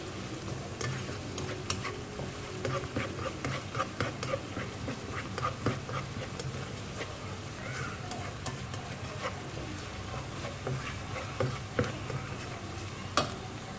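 Garlic, ginger and onions fry in a pan for Indian-style pasta, a soft continuous sizzle broken by scattered spoon clicks and scrapes, fairly quiet and close with no talking.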